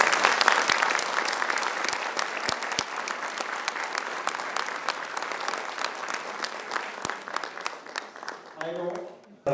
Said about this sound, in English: give a round of applause as a gratitude to the faculty members